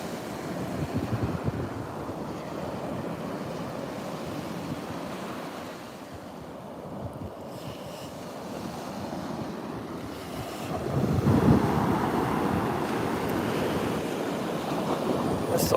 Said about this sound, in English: It's a lazy day at the beach, I guess, with the waves coming in.